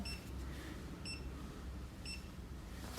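A Xiaomi Mi Electric Scooter Pro 2 gives three short, high-pitched electronic beeps about a second apart over a low background hum.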